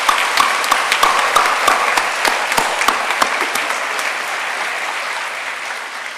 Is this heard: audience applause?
yes